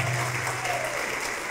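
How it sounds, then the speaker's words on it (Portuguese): A church congregation claps together in a brief, steady wash of applause, with a low hum from the room beneath it. "vamos aplaudir ao Senhor Jesus"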